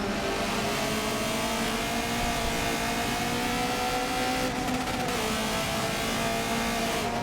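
Michelin Pilot Challenge race cars at Road America, with engines screaming at high revs down the front straight, a continuous loud roar with shifting pitch and a brief change as the cars pass.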